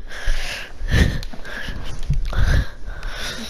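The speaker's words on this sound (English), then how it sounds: "Can you stop breathing so hard?" Heavy, rhythmic breathing sits close to the microphone during an NBA 2K17 session, with about three loud, breathy surges and sniffing-like gusts repeating over a few seconds.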